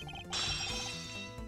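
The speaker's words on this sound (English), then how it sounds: "That sound I heard was most definitely the sound of a mirror breaking." Glass mirror shattering in the Ace Attorney Investigations game, a sudden bright crash with a ringing, tinkling burst that holds over soft background music, with a second smaller impact near the end.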